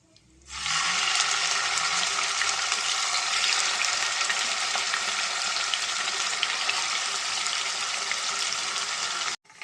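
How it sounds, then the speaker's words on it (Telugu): Chicken legs fry in hot oil with a loud, continuous, even sizzle that starts abruptly and holds steady for about nine seconds before cutting off. "ఫ్రై అయిన చికెన్ ఇంకొంచెం ఉందండి అది కూడా ఫ్రై చేసేద్దామండి"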